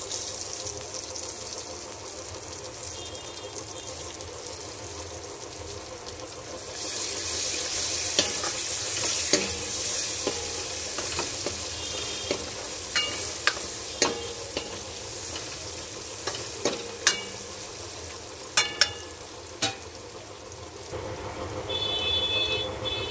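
Onion and tomato for pav bhaji cooking in a pan, a continuous close sizzle that grows brighter partway through, with repeated sharp stirring clicks and scrapes, no talk.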